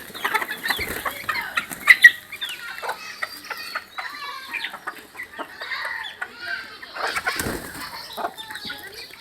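Chickens being let out cluck and squawk nearby, busy overlapping calls with some wing flapping and scuffling, fairly close.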